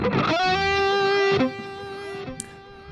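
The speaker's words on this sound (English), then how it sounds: "I have a high gain distortion here" An electric guitar played through high-gain distortion rings out loud and close, a bright sustained lead note with rich overtones, then a shift to a second held note that fades slightly, with no talk.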